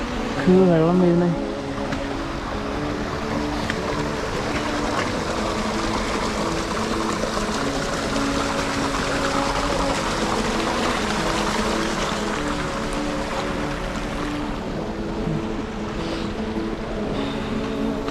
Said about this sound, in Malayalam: വെള്ളം വീഴുന്നേ.